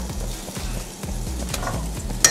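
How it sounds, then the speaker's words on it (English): A whisk stirs flour into softened onions in a pan for chicken pot pie, with quick scraping strokes over a soft sizzle, close and brief, with no talk. "whisk this flour in just to cook it out"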